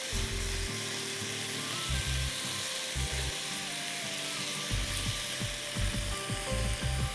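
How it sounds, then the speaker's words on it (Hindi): Chicken pieces frying in oil, seasoned with salt and crushed black pepper, give a dense, loud sizzle with intermittent low knocks and scrapes of the utensil in the pan, close up. "अच्छी तरह सारे चिकन के पीसेस को हमें कलर चेंज हो तब तक पकाना है, फ्राई करना है इस तेल में"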